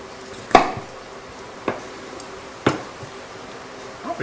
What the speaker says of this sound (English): what we're going to do now is cut our ribs